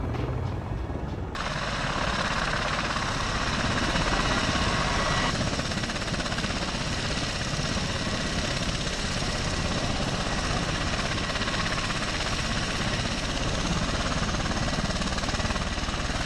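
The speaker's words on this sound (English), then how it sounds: "helicopters are fucking loud" A loud Osprey aircraft roars continuously, its broadband engine and rotor noise filling the whole stretch without letup.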